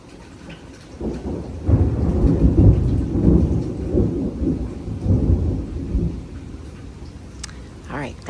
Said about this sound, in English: That's going to be a loud thunder